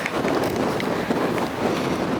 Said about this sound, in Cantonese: 聽唔聽到大嘅風聲啊？